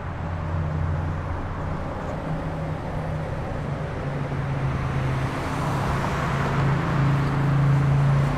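Light road traffic passes a traffic-light intersection at Kreuzstrasse in Gmund am Tegernsee, a continuous moderate roadway rumble with a vehicle engine hum that swells slightly toward the end, with no voices.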